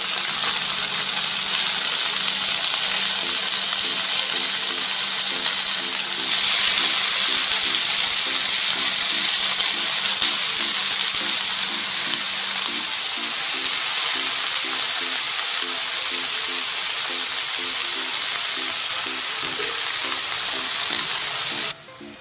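Pieces of banana stem sizzle and fry steadily in a hot pan for a banana stem curry, a loud continuous hiss that carries on unbroken with no one speaking.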